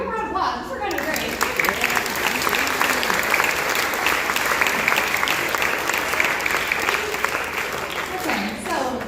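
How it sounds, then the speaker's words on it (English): An audience at a Denver Schools grades 5–12 band concert claps for a song's arranger, a full, even round of applause after a spoken introduction, sustained and close before fading as a voice returns. "Give him a round of applause."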